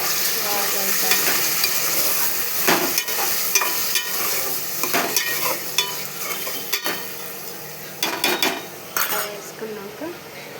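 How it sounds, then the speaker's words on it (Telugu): Chicken stirred in a hot frying pan, with steady sizzling and repeated scraping clinks of a utensil against the pan, close and fairly loud. "చికెన్ వేసుకొని బాగా కలపాలి."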